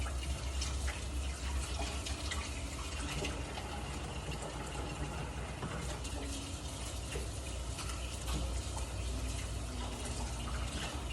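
Tap water runs steadily into a sink while hands are washed in a kitchen, a continuous broadband gush with faint splashing flutters, close and even throughout without talk.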